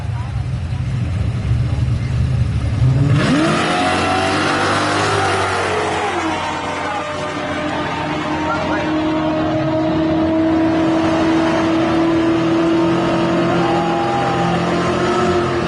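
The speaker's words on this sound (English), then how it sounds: "it's Joshua Dimitrios in the yellow Charger" Dodge Chargers, one yellow, drag racing down a quarter-mile strip at a Mopar event, loud V8 roar building into a long sustained high-revving pull, close and continuous throughout, with crowd and announcer noise underneath.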